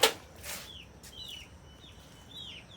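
Chickens being moved into a coop give a few soft, short clucks and calls spaced apart over quiet background, faint and fairly close.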